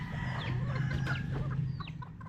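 A restless chicken with a head wound and a cord tied to its foot clucks in a string of short, close calls over a low steady hum.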